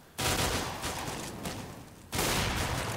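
Gunfire from a Counter-Strike match on de_inferno, AWP sniper rifle fights: two loud, booming blasts with long echoing tails, the first decaying slowly before a second heavy shot hits near the end.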